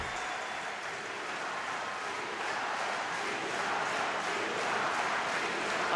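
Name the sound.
fencing arena crowd cheering and applauding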